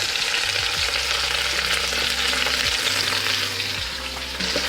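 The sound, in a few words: onions and mushrooms sautéing in a pan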